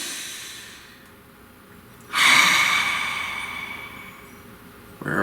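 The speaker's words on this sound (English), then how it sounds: "Please take a nice deep breath." A single deep inhalation-exhalation rises sharply after a quiet stretch, a broad breathy rush that fades slowly, close and alone with no talk.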